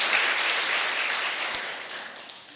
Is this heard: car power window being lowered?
no